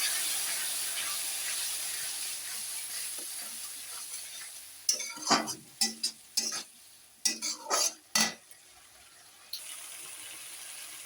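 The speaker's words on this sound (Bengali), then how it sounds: "দিয়ে ভালো করে এখন একটু কষিয়ে নেব।" A spoon scrapes and stirs fish masala sautéing in a pan with salt, turmeric and a splash of water, first a steady soft sizzle, then a run of sharp, close scraping strokes before the hiss settles again.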